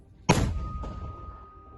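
A single sharp, heavy boom of a 120 mm mortar being fired nearby in combat, followed by a short rumbling echo that fades away.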